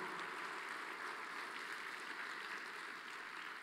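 A church congregation applauds during a Spanish-language sermon on temptation, a steady, even wash of many hands clapping at once, heard from a distance at low level with no voices over it.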